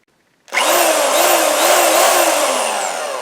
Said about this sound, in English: I'm drilling a hole in my truck.